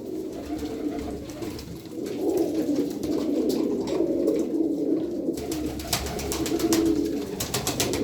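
A loft of about twelve domestic pigeons, including Sarıkır, gypsy blue and spotted soap-colored birds, coos steadily and close by, with a few light scratching and fluttering noises on top and no speech.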